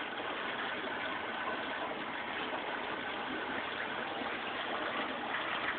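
F20-2700 water pump pushing about 2700 gallons per hour up a 1-inch pipe in a hobby aquaponics greenhouse, a quiet, steady rushing hum of flowing water that stays even throughout with no talking.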